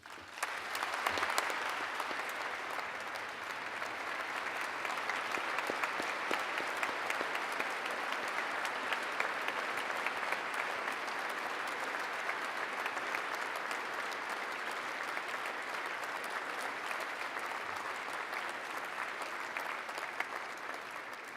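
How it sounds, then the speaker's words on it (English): Sustained audience applause at a graduate award ceremony, a steady dense clatter of many hands clapping that holds at an even level throughout, moderately distant, with no talk over it. "please join in another round of applause for our new distinguished graduates"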